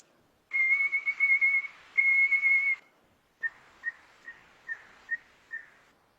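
A person whistles to imitate a red bird's song: two long warbling trilled phrases, then a pause and six short, evenly spaced chirping notes, close and clear.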